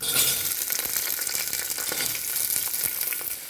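Onions fry in sesame oil in a pan for Chettinad mutton kuzhambu, giving a steady, bright, close sizzle that stays even and continuous with no talk over it.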